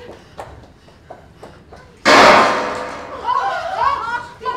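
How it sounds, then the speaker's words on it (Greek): A single sharp gunshot in a film bursts out loud and close, decaying into a long rumble, after quiet muffled voices and before people cry out. "Πυροβολισμός!"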